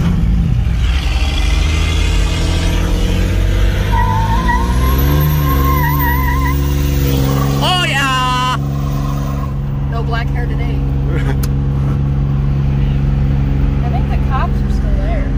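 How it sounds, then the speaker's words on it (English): Several cars doing burnouts nearby, engines revving and roaring with tire squeal mixed in, a steady loud rumble running throughout while people talk and shout over it. "They're doing tons of burnouts."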